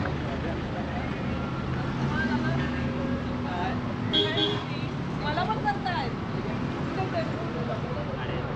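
Ferry boat at the jetty at Dabhol, with a steady low engine and water rumble continuing throughout, people talking over it nearby.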